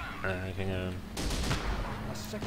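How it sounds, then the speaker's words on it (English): A 20mm flak gun fires in the video game Company of Heroes, a burst of rapid cracking shots that follows a few seconds of speech and is loud and close. "The 20mm flak gun is really useful for taking infantry down."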